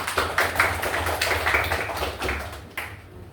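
Children in a classroom clap their hands together, a quick run of uneven, close claps in a steady rhythm that slows and stops near the end.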